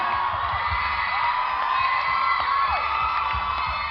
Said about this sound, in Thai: ผมขอเสียงปรบมือให้กับพาวเวอร์ตรนนะครับขอเสียงที่ดังให้กับคุณครับ